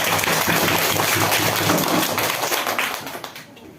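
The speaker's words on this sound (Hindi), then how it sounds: "एक बार जोरदार तालियां हो जाए।" Students in a school classroom applaud after a classmate's advertisement presentation, a loud, dense burst of clapping that carries on steadily, then thins out and fades toward the end.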